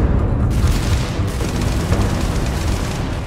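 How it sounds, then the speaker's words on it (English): Explosive rounds fired from a gun in the video game Starfield, a dense, loud rumbling barrage of booms and blasts that runs without a break. "Ammunition like explosive rounds."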